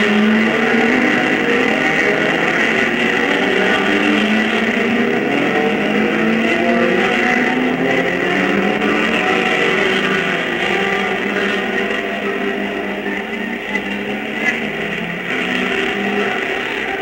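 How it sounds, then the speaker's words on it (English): Race cars at the start of the 1958 12 Hours of Sebring endurance race, a dense, continuous roar of many engines grouped together, loud and sustained with overlapping revving tones throughout. "Cars are closely grouped during the first lap."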